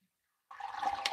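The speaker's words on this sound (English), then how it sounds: "Rinse off the moringa leaf" Bottled water poured over fresh moringa leaves to rinse them, a steady close splashing stream that starts abruptly after a short silence and runs on evenly.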